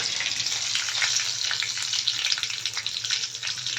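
Cumin seeds, bay leaves and a piece of cinnamon sizzle steadily in hot oil for lobster masala curry, a dense, bright crackle that holds close and loud throughout with no voices.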